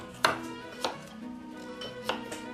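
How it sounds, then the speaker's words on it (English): A knife chops through food on a board in a 1910s-style kitchen, giving four or five irregular, moderately loud knocks with faint kitchen clatter between them. "I think I can manage the chopping."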